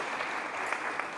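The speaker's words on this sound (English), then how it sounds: "We'll still clap for her." Brief, moderately distant applause from an audience at a 2023 scholarship and awards ceremony, a steady patter of hand claps without voices.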